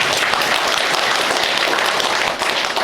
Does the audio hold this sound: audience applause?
yes